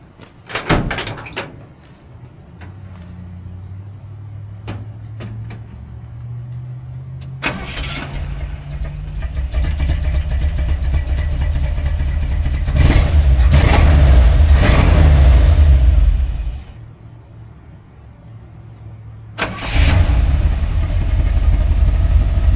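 A warm 1972 Chevy C10 pickup with a Holley 600 4160-style carburetor and electric choke cranks, fires up and settles into a loud idle, then revs hard for several seconds before dropping back, with door sounds near the start.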